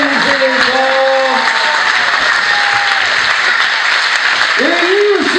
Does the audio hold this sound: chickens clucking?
no